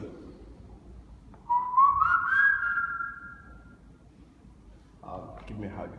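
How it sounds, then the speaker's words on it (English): A person whistles a single rising, sliding tone lasting about a second and a half, fairly close and clear, followed by a moment of quiet and some brief room noise. "Whistle."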